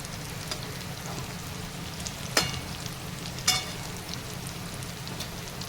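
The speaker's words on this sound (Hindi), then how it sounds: "मैं इसे थोड़ा सा शैलो फ्राई करूँगी" Colocasia leaf rolls (patra) shallow-fry in a pan with an even, crackling sizzle, broken twice by sharp spatula clinks, and no voices.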